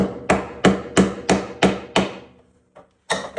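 Six loud, evenly spaced metal-and-wood whacks from a hammer knocking at a 1961 VW Beetle floor pan to break it loose, then a brief pause, one faint tap and another solid strike, close up with no talking.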